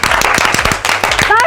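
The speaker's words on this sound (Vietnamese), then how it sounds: "vỗ tay các em" Employees applaud in a brisk burst of close, loud handclapping with sharp, rapid claps, while a voice talks over it and fades in at the end.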